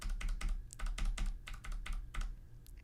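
Computer keyboard keys being pressed in quick succession, a soft close clatter of about a dozen taps at an even rhythm, faint and alone.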